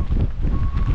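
Strong coastal wind on a high point near the ocean in Newfoundland, a steady, loud, low roar buffeting the microphone throughout.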